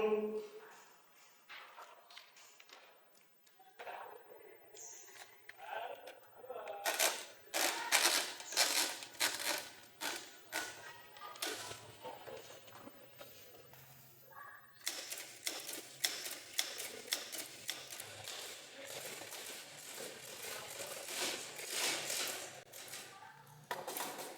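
Rapid typewriter keystrokes clatter in irregular bursts, sharp clicks coming thick and fast, with voices speaking at times.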